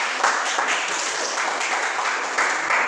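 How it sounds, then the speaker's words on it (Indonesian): A classroom of students applauds a classmate, steady light clapping from many hands, moderately loud and close, with a few slightly stronger bursts. "Mari kita beri aplaus untuk Putri."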